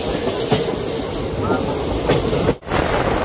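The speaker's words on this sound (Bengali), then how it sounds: "এখন ট্রেনটি ঢুকছে রংজুলি স্টেশনে।" A local train rolls into Rangjuli station on the Goalpara–Guwahati line, a steady close rumble and rattle of carriages with faint clacks, briefly dipping near the end.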